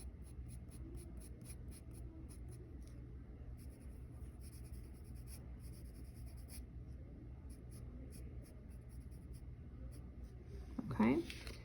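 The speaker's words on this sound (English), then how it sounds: "when you need it to be darker, just add another layer of graphite down." A graphite pencil shades across paper in repeated faint, close scratchy strokes, soft and continuous with a low hum beneath and a brief louder voice near the end.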